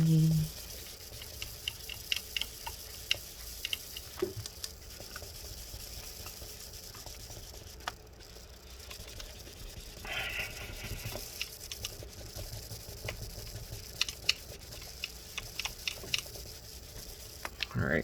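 A paper towel rubs and wipes residue off a part of a 2012 15-inch Retina MacBook Pro A1398, making soft, close scrubbing and squishing noises in irregular strokes with occasional light taps.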